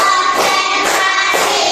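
Children clap hands in a classroom clapping chant, several loud, close, sharp bursts of claps repeating in a steady rhythm.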